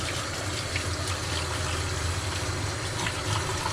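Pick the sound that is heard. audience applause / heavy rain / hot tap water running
hot tap water running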